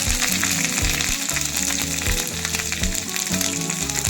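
Finely chopped ginger frying in oil for homemade Schezwan chutney, a steady, loud sizzle with bursts of crackle and faint stirring throughout, no voices.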